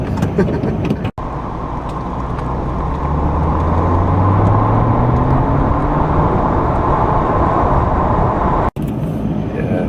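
A 2006 Ford GT accelerates hard, its engine note climbing steadily through the gears as a loud, sustained roar heard from inside the car, with brief breaks between gears.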